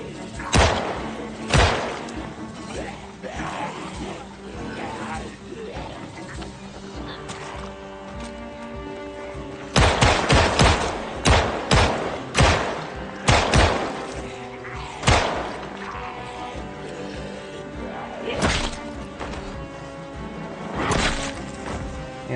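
Gunshots in Project Zomboid, a zombie survival game, firing in scattered bursts of loud single cracks with a dense volley near the middle, followed by reloading and a few sparser shots.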